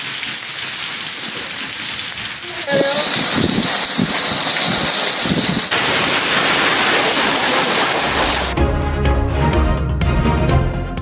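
Rain falling steadily in Khyber Pakhtunkhwa or Azad Kashmir, a dense, loud hiss that runs the whole time, with shifts in texture and a deeper rumble near the end.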